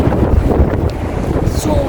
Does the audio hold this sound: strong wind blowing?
yes